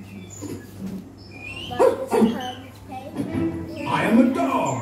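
Recorded dog barking played as part of a Room on the Broom walk-through ride at Chessington World of Adventures, with a few sharp barks and yips over a steady low hum as people talk nearby.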